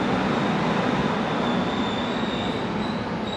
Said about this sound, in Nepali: ल हाम्रो ट्रेन ट्याक्कै आइपुग्यो।